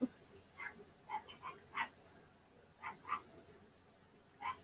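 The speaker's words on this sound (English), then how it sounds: "That little barking y'all hear are 5-month-olds, 6-month-olds." Five- to six-month-old dogs yip and bark faintly in the background, giving short scattered barks at a distance with a quiet hum between them.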